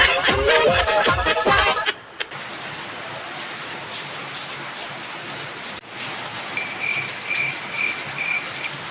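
Steady rain pours down over a constant hiss after a brief opening burst of other noise, fairly loud and continuous throughout.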